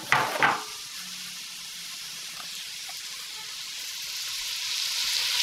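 Giblets and aromatics sizzling in a pan of olive oil and butter for gluten-free Thanksgiving stuffing, a steady close frying hiss with a brief clatter of utensils at the start.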